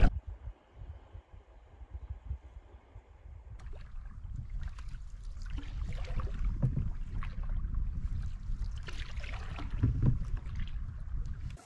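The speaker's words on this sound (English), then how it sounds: "Nice headwind here. Stiff." Stiff headwind gusting across a canoe on the Yukon River, a steady low rushing roar that swells and buffets close to the microphone, growing stronger after the first few seconds, with no voices.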